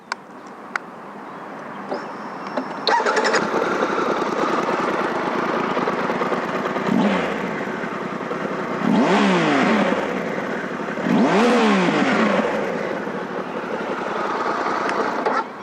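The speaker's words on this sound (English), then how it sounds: "This bike actually sounds really good with this Arrow exhaust, and this is with the DB killer." Triumph Tiger 1200 inline-three engine with an Arrow exhaust and DB killer fitted, idling and then blipped in three sharp revs that rise and fall, loud and close, with no talking.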